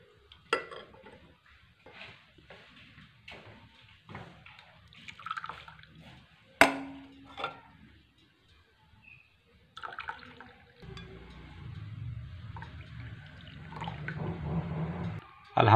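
Ginger and green cardamom tea poured into cups, a steady liquid splash running for several seconds, with clinks of cups and small kitchen knocks before it.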